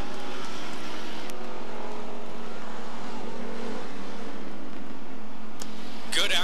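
Race cars circle a speedway oval, their engines a steady, distant roar that drones on throughout, with a commentator talking over the noise.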